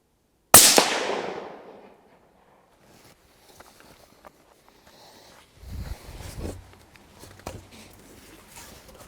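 A single loud rifle shot while zeroing a rifle chambered in 260 for fox control on a farm, with a sharp crack and a decaying echo, followed by quiet footsteps and handling noises.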